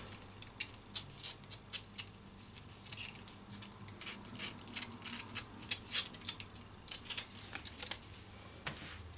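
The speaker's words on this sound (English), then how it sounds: "so I'm going to trim out the neck depth as well from here, like so" Scissors snip through a paper dress pattern, trimming along the curved neckline of an A-line maxi dress front panel, as a series of quiet, irregular crisp cuts close by with no talking.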